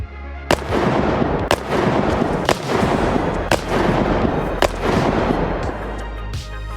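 Pistol shots from a G18 in a video game, fired slowly one at a time: about seven sharp, loud reports spaced roughly a second apart over a steady background hum.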